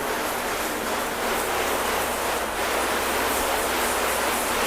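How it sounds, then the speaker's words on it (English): A continuous broadband hiss of water spraying and rinsing off a car, steady and close, with no talking. "So what we're going to do is rinse it off to start."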